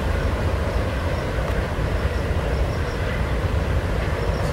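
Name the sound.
train passing in the distance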